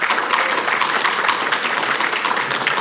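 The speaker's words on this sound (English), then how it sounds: "That is sympathy clapping because he found it." Sympathy clapping from a conference audience at a big data panel, a sustained patter of many hands clapping evenly throughout, fairly close and moderately loud.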